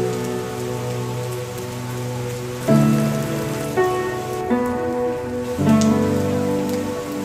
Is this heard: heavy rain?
yes